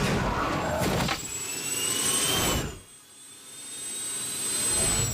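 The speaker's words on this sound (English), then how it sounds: "Launch the drones!" Rescue drones launch in the Thunderbirds Are Go cartoon with a loud, steady jet-like whoosh and whine. The roar dips briefly about midway, then swells back to full strength.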